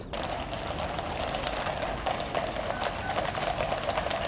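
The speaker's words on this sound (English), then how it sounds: "I just took that video of those horses trotting and stuff" Horses trot past near Buckingham Palace in London, hooves clip-clopping in a steady brisk rhythm over a loud continuous outdoor wash of street noise, with no talk.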